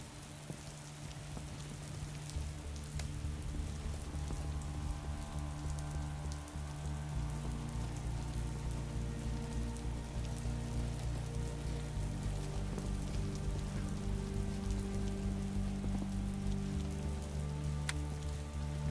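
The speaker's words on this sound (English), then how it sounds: "It's raining already." Steady rain in a World War I trench-digging colony simulator game patters continuously over a low, droning musical backdrop, with no voices, holding an even loudness throughout.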